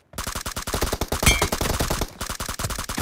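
Rapid video-game gunfire bursting loud and close, a dense string of shots in quick succession with brief gaps, no voices over it.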